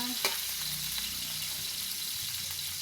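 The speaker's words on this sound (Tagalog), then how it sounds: "Ibuhos po natin ang ating mantika. Then ilagay po natin ang ating bawang." Garlic frying in hot cooking oil in a pan, a steady close sizzle that continues throughout with a brief stirring clatter near the start and no voices.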